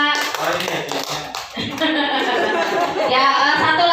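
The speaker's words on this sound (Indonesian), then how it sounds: "Tepuk tangan buat Bapak" People gathered at a teachers' school reflection session clap their hands in a loud, dense burst of applause, mixed with chatter and a few voices over the clapping.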